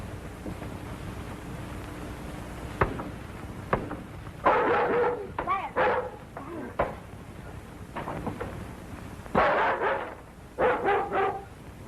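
A dog barking in short repeated bursts, several sharp yaps in clusters, fairly close, with knocks and scuffling noises between them.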